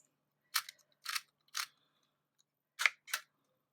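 A Motex embossing label maker punches letters one by one, five crisp clicking snaps in two clusters, near and alone.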